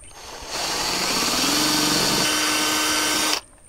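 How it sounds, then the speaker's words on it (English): A power drill bores holes through a metal solar panel ground mount, a loud, steady motor whine that holds for about three seconds with a slight rise in pitch before cutting off. "And then I'm gonna drill the holes through"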